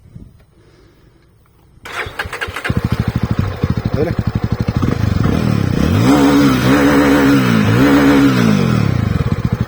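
A 2024 Jawa Classic 350 motorcycle cranks and fires after a quiet opening, then idles with a loud, steady exhaust thump and is blipped through several rising revs, close up, with brief talk.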